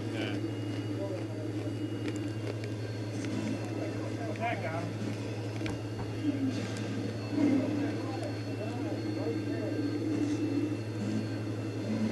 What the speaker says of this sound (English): that's Mike in the attack chopper